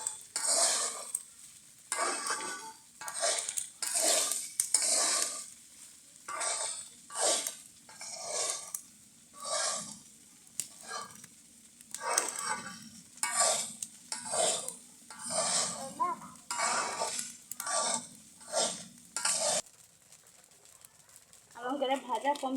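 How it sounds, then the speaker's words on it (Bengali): Rice is fried and stirred in a pot for khichuri, with rhythmic scraping strokes of a spoon repeating about once a second, punctuated by brief pauses, close and fairly loud. "এটা এখন ভেজে নিব,"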